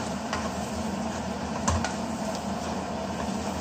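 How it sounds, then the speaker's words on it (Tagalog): Onion and garlic lightly toasting in a pan while being sautéed for a Filipino vegetable dish, giving a steady close sizzle with occasional stirring clicks and scrapes and no talk. "Tinutusta ko lang ng konti yung sibuyas at bawang"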